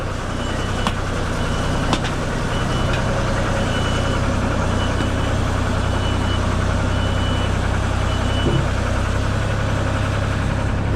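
A truck engine idles and rumbles at a steady mid pitch, close and continuous, as the truck works up loading ramps, with a few faint clicks and knocks and no beeping evident.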